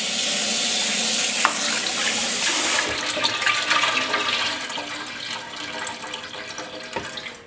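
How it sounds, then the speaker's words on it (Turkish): Rice being rinsed under running tap water to wash off its starch, a loud steady rush of water filling a bowl in the sink that eases to a lighter splashing flow with small knocks. "Pirincimizin nişastası gidene kadar iyice yıkayalım."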